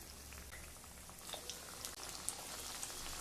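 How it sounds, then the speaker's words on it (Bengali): Coated fish fry in mustard oil in a kadai, a faint, steady hiss with a dense spray of tiny crackles and pops and no voices. "এবার কড়াইতে সর্ষের তেল দিয়ে দেব। তেলটা একটু বেশি লাগবে। তেল গরম হয়ে গেলে মাছগুলো দিয়ে দেব।"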